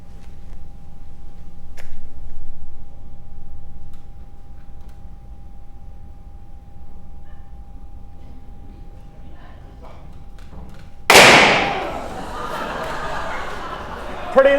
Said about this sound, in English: Penny, what do you think of these little firecrackers we just made up?